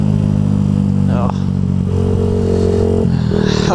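A loud, close motorcycle exhaust burbles and revs, its engine note rising and dipping, with a voice briefly exclaiming over it.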